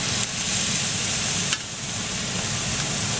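Chicken pieces sizzle steadily in a hot pan on a stove set to high, a continuous close frying hiss with a couple of faint clicks and no talking.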